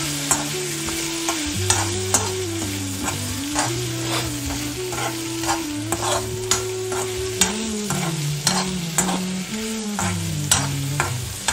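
Potatoes frying in oil in a pan for a Konkani potato upkari, with a continuous loud sizzle and regular scraping stirs and ladle knocks throughout.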